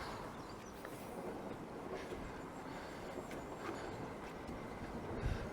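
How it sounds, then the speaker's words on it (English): A train comes in at Town Quay as a steady, distant rumble of rail wheels with faint clicking, heard alone with no talk. "And there's a train coming in, Bill."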